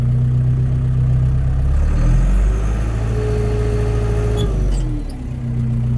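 A Case 4230 tractor engine runs steadily at a low, heavy rumble, then its pitch shifts as the tractor pulls away and drives forward, close by, with no talk.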